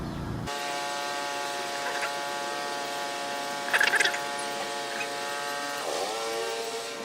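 A steady droning motor whines continuously in the background, with a brief burst of crackly noise partway through and faint distant sounds around it.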